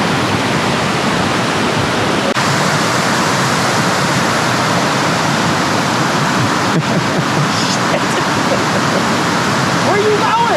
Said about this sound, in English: We're at the top of that waterfall where it starts right here.